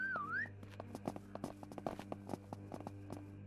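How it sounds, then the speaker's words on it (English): A game character in SurrounDead 2 whistles a short rising-falling tone at the very start, followed by scattered light taps and footstep-like clicks over a steady low hum. "Now let's go ahead and whistle."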